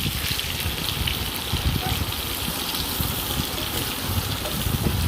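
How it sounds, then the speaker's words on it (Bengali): Onions and snake gourd sizzle steadily in a hot pan, a continuous close frying hiss with crackle, no talking. "এখন এটাকে ভেজে নেব, নাড়াচাড়া করে নেব।"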